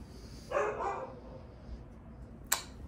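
A dog barks outdoors at a distance, a short rough burst of barking followed by a quieter pause and one sharp higher yip near the end.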